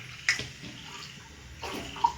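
Water goes into a cooking pot for a vegetable curry on a gas stove: two short splashing pours, the first quick and the second a bit longer, close by amid quiet room noise.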